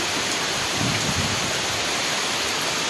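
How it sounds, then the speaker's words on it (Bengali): Rain falling outdoors on a wet afternoon makes a steady, dense broadband hiss that stays even and fills the whole clip, with no voices over it. "তো বাইরে বৃষ্টি হচ্ছে"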